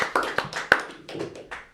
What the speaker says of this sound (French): Est-ce qu'on peut faire un maximum d'applaudissements pour Julien, frisson professionnel, qui arrive ici dans le studio?